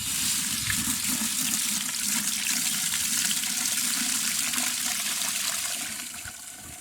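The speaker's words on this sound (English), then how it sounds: "And I'm going to put some water in there." Water pours steadily into a bucket of garden nutrient mix for prepping sweet potato beds, a loud, continuous rushing splash that tapers off toward the end, with no talking.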